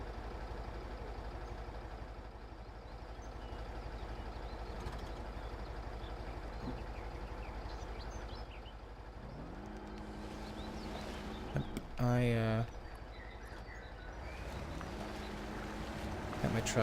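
A truck engine in the Spintires: Mudrunner off-road game drones steadily while the vehicle sits stuck in boggy woodland, with revving pitch sweeps near the end and a brief loud clunk, rumbling continuously at moderate level.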